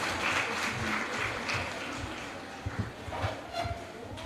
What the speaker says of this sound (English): Can we please give these ladies a warm round of applause?